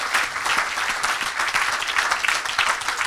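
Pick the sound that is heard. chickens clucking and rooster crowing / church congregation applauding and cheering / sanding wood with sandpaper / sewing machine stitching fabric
church congregation applauding and cheering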